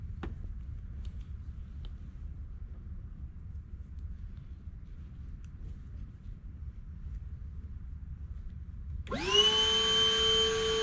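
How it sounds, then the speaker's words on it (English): Vacuum cleaner pulling string through a conduit, low faint rumble at first, then the motor whines up loudly near the end and holds steady. "we're gonna suck it from the other end with the vacuum"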